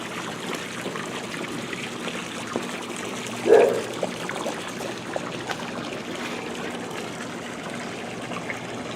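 A running toilet at a town facility in Apple Valley, water trickling steadily and continuously at moderate level, with a brief louder splash or knock partway through and no talking.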